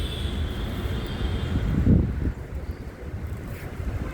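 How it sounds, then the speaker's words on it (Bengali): Steady wind blows across the microphone outdoors, a continuous low rumble with a stronger gust near the middle, no voices. "আমাদের নিচে এসে হাঁটলে খুব হাওয়া"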